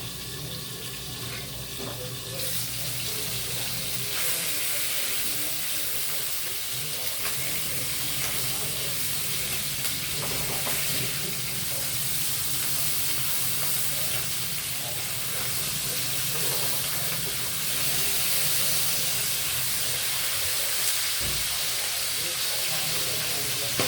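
A steady, loud sizzling hiss of mackerel frying in a pan continues without a break, with faint clatter underneath.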